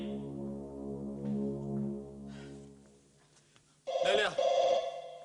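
On a Konkani tiatr stage, a telephone rings loudly in a short, bright burst near the end, following a quieter sustained musical tone.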